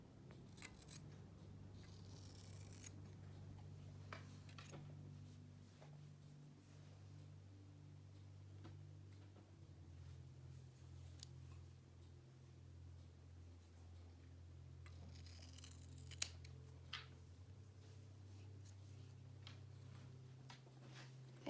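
Scissors trim the fur around a dog's tail in small quiet snips scattered over a steady low room hum, faint and close, with no one talking.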